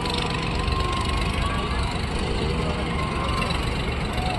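Tractor engine roaring loud and continuous at a tractor-pulling contest in North Karnataka, a dense rumbling drone with no pauses.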